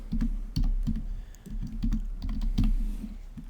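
Keys clatter on a computer keyboard as a name is typed into a SolidWorks drawing annotation, a quick, close, uneven run of clicks with short pauses and no voice.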